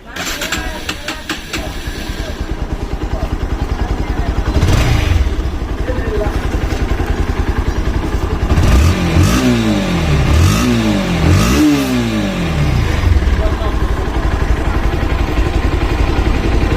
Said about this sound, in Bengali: দেখাবো আপনাদেরকে বাইকটির সাউন্ড কন্ডিশন